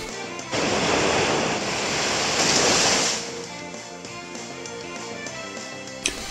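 The Muddy Water attack in Pokemon Alpha Sapphire surges as a loud, rushing wash of watery noise for a few seconds, then fades under the game's music, with a sharp click near the end.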